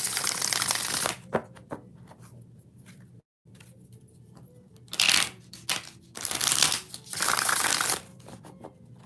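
Tarot cards being shuffled, several bursts of brisk riffling and crisp papery rustle separated by short pauses, close and fairly loud with no talk over it.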